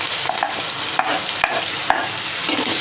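Chopped onion sizzles in hot oil with roasted cumin while a spoon stirs and scrapes the pan in a few distinct strokes, close and steady, with no voices.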